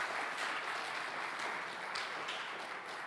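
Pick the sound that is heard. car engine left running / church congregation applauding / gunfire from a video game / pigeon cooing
church congregation applauding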